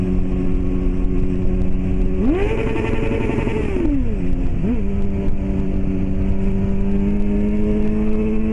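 At night in front of a school, a Honda Hornet motorcycle idles steadily, then revs sharply and holds against the rev limiter for over a second. It drops back to idle, gives one quick blip, and settles.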